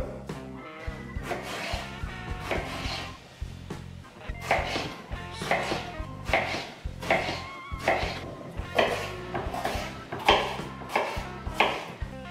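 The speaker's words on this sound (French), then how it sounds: "Je vais maintenant détailler tous les légumes pour pouvoir les faire revenir dans un peu d'huile d'olive dans une poêle." Assorted vegetables being chopped with a knife on a cutting board for a hummus tart with grilled vegetables: a steady run of crisp, close knife strikes in rhythmic bursts, with no talking.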